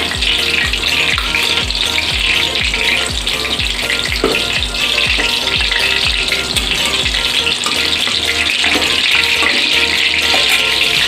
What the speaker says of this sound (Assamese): এতিয়া সেইখিনি তেলতে মই তেজপাত দি দিছোঁ 1টা।